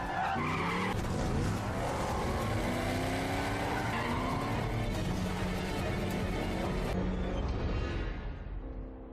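A sports car speeds through a chase scene, tires skidding and squealing over a loud sustained engine roar that persists for nearly the whole stretch, fading slightly near the end.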